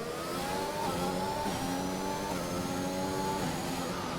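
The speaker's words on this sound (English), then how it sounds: "Brosty letting the Mercedes by not hinder their lap time" Racing video game Mercedes race car at the Azerbaijan circuit, its engine wailing loudly and steadily as it passes, pitch shifting slightly through gear changes, with no talk.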